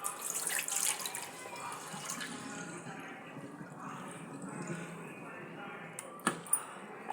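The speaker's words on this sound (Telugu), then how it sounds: "ఇలాగా కడిగేసుకోవాలి. ఒక 2-3 సార్లు బాగా కడుక్కోవాలి." Flattened rice (poha) being washed in water, a steady close splashing and sloshing that swirls for several seconds, then two sharp knocks near the end.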